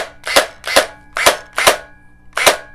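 A Faction Specter gel blaster fires in single-shot mode, five sharp close snaps with a springy plunger thwack, spaced roughly half a second apart.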